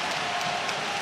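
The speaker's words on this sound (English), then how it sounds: "just listen to the crowd reaction" A rugby stadium crowd at a Clermont versus Toulon Champions Cup play-off roars over a scrum, making a dense, continuous wash of cheering and applause that sounds distant and fills the whole moment.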